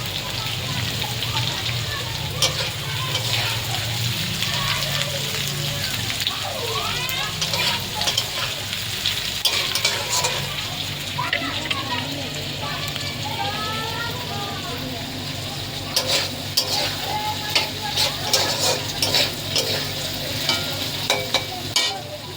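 Egg and vegetable chow mein is stirred and fried in a pan, giving a steady hiss of sizzling broken by scraping stir strokes and clatter. A voice speaks at times over the frying.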